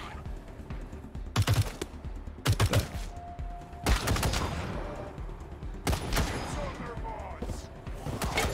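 Gunfire in the game Wasteland 3: several sharp, loud bursts of shots arrive in irregular clusters, with quieter combat noise between them.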